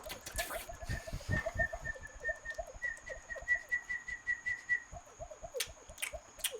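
A person whistles a thin, steady tune of short repeated notes, with faint background noise and brief bird-like chirps.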